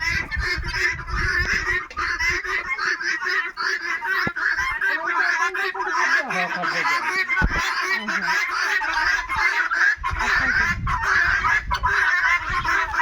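Australian chickens on a farm call loudly and continuously, a dense clamour of honking, squawking cries that carries through the whole stretch without any talk.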